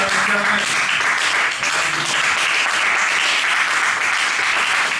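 A church congregation applauds and cheers loudly and continuously in praise of the Lord, a dense wall of clapping and acclamation filling the space, with voices mixed into the crowd noise.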